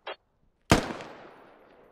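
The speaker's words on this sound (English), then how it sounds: "Oh no, they're shooting at Headbuster." Gunfire in the video game SquadOps: a brief faint burst, then after a pause one loud nearby shot whose echoing tail fades slowly across the remaining second, with no talking.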